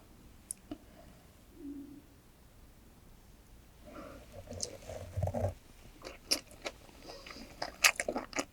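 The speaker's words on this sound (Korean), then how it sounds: "밥에만 올려서 먹어볼게요" Spicy stir-fried baby octopus eaten with rice, heard as soft close-up chewing and moist bites with scattered sharp clicks, quiet at first and growing busier toward the end.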